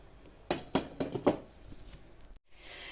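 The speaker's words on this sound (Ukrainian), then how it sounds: "І накришу салат." Salad vegetables, tomatoes and white onion, chopped with a knife on a board in a home kitchen: five quick loud chops in a cluster, then quieter scraping, with no talking.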